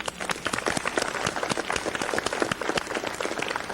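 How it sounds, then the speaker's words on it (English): Audience applause at an Apple conference: a dense, steady round of clapping from a crowd, many overlapping hand claps, fairly loud and continuous throughout, with no talking over it. "Round of applause for Vitas."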